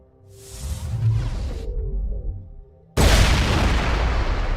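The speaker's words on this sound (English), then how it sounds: "Now we can blow up the fuel tank." A fuel tank blows up in the video game Mass Effect 1. A swelling whoosh and rumble build first, then the sound drops away, and a sudden heavy boom bursts out, loud and broad, before roaring on.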